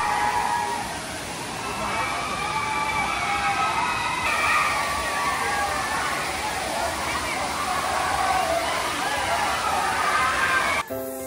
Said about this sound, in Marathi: चला तर मग अजून जवळून पाहूया या राऊतवाडीचा हा मोहक धबधबा